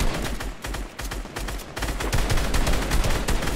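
Rapid bursts of gunfire from the Fortnite video game, loud clusters of sharp shots in quick succession with short gaps, filling the whole moment without talk.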